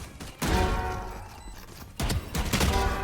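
Gunfire from a weapon in Valorant: two heavy bursts of rapid shots about a second and a half apart, loud and close, with booming low rumble and no talk.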